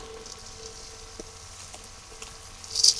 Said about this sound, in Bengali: পেঁয়াজ রসুনের সাথে আমি ডালগুলো বাজিয়ে নিব পেঁয়াজ রসুন আর ডাল একসাথে বাজা হবে